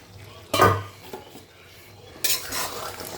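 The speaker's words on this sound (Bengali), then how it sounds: "এবার আমি এটাকে দশ মিনিট ভালো করে কষিয়ে নেব" Chicken gizzards stir-fried in a pan for Bengali gizzard kosha, loud bursts of sizzling as a utensil scrapes and stirs, with quieter frying between the strokes, close up.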